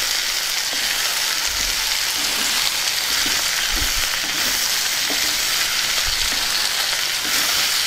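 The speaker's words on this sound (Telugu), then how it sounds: "వీటిని ఒక 5 నిమిషాల పాటు బాగా వేగనిద్దాం" Ivy gourd pieces fry with salt in a hot pan, making a loud, dense sizzle up close. A few soft thumps of stirring sound through the steady frying, and no one speaks.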